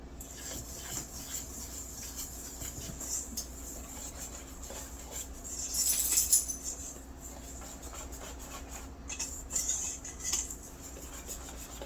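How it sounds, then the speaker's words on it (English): Ingredients are whisked together in a bowl, making a quiet, continuous rubbing and scraping that swells briefly midway, close and faint. "we're going to take our whisk and whisk that together"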